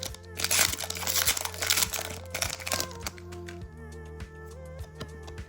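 A Pokémon card booster pack is torn open and its foil wrapper crinkles in close, loud bursts for about three seconds, then quieter crackles and small taps follow as the cards are handled.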